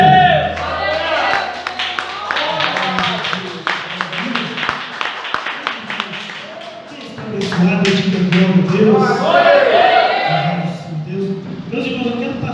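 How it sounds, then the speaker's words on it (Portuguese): A church congregation at a Sunday service claps for the Lord, scattered and rhythmic hand claps mixing with a murmuring crowd, while people talk and call out throughout. "as palmas para o Senhor"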